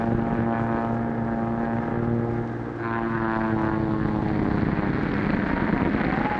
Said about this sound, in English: Something's wrong with Barton's plane.